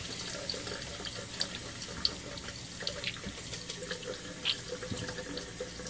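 Water runs steadily from a tap to wet clay for pulling a ceramic handle, a continuous close splashing stream with small spatters and no talking.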